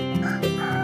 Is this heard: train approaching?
no